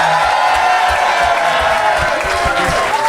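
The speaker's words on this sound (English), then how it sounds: "But if you think Miles and Clarky made the best case, please applaud now." A studio comedy audience breaks into loud, sustained applause with cheers and whoops, a dense roar of clapping filling the room without a pause.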